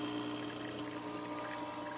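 An espresso shot runs fast from a Bezzera coffee machine, with a steady, close pouring hiss laid over the constant hum of the machine's pump and no talk.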